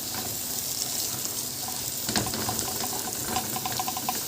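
Mushrooms fry in a pan with a steady close hiss and scattered crackling pops throughout, moderately loud, without talk.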